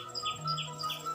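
Birds calling in a dense forest: repeated high chirps recur at a steady rhythm over a low constant hum, moderately faint, with no talking.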